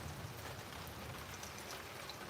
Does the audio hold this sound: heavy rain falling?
yes